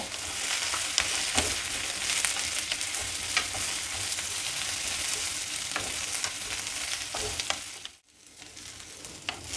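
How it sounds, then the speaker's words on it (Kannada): Eggplant, onion and garlic fry in hot oil with a steady close crackling sizzle, punctuated by occasional stirring scrapes and a short dip near the end, with no one speaking. "ಈಗ ಬದನೆಕಾಯಿ ಈರುಳ್ಳಿ ಬೆಳ್ಳುಳ್ಳಿ ಎಲ್ಲ ಹಾಕಿದ್ದು ಚೆನ್ನಾಗಿ ಫ್ರೈ ಆಗಿದೆ"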